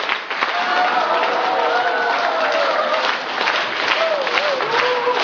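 A church congregation claps together in a continuous, fairly loud burst of applause while voices talk over it.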